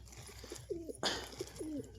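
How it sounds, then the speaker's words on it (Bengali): Soft, low domestic pigeon coos repeat in short rolling phrases against a quiet background, with one brief louder rustle in between. "এগুলো আমার ঘরের পায়রা পোষা পায়রা আর কি"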